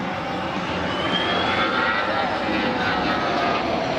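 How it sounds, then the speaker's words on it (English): Airbus A319 jet airliner flying close to another plane at an air show in Slovakia, a steady loud broadband engine roar with a faint rising whine throughout. "This Airbus A319 flying really close to another plane."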